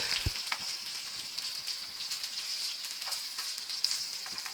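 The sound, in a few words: brinjal shallow frying in oil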